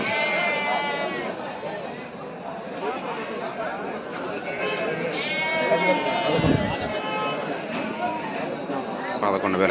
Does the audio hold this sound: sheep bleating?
yes